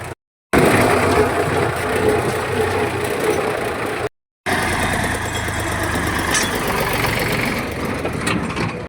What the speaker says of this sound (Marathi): हे दुसरं ट्रॅक्टर आलं काकाचं